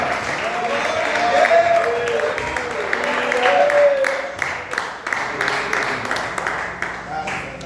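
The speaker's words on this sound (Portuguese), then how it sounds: "Deus com as palmas, aleluia!" A church congregation claps in praise during a Portuguese-language service, a steady crowd of clapping that thins and grows more scattered toward the end, with voices rising over it.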